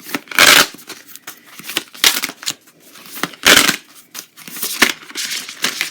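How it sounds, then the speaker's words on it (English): Tarot cards are shuffled close up in repeated brisk bursts of papery riffling and slapping, irregular in rhythm, with no voices. "But let's keep shuffling right here."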